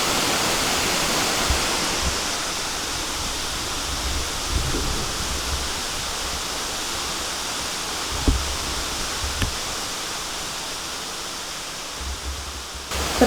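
Ciwalen waterfall in Gunung Gede Pangrango National Park roars as a steady, broad rush of falling water, constant and fairly loud, with a few faint knocks over it.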